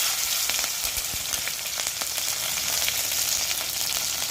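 Onions fry in a pan with a dense, even sizzle and scattered pops and crackles throughout, close and steady, no speech.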